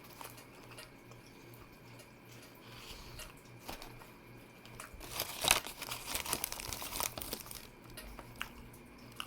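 Paper wrapper from a 12-inch Subway meatball marinara sandwich crinkling and rustling close by, quiet at first and then growing into louder, busier crumpling toward the end.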